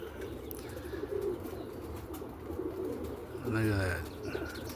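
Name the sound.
roller pigeons cooing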